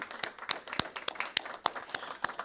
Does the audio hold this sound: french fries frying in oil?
no